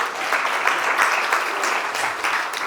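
An audience claps for women entrepreneurs at a large training meet, a dense, steady applause from many hands held at an even level throughout.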